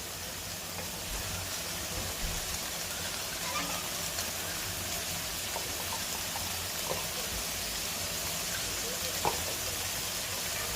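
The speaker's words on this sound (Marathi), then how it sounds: "आता दोन ते तीन मिनिट थोडंसं परतून घ्यायचं आहे म्हणजे भाजीला छान तेल सुटेल" Cluster beans tossed with masala in oil crackle with a steady, soft sizzle throughout, broken by a few faint clinks of a stirring spoon, with nobody speaking.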